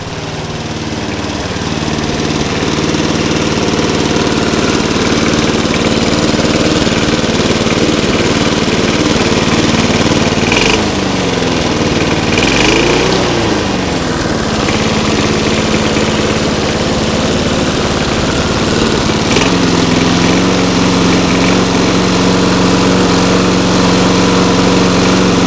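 A small engine runs steadily and loudly after its carburetor was cleaned, with a couple of brief surges and dips in pitch where it hunts and runs unevenly, close up throughout.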